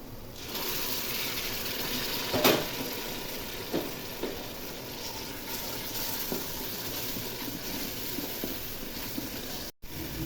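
Ground turmeric, chili, cumin and salt simmering with a splash of water in a pan for meat bhuna, a soft steady sizzle and bubbling hiss with a few faint clinks, no talking.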